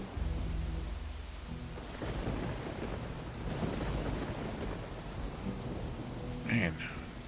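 Heavy rain pours steadily during a thunderstorm in the fantasy role-playing game Risen, with deep rolling thunder rumbling loud and close, and a brief sharper crack near the end.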